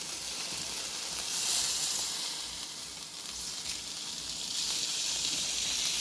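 A boneless ribeye steak sears in a hot pan, giving a steady close sizzle and hiss that swells and eases slightly across the stretch, with no voices over it.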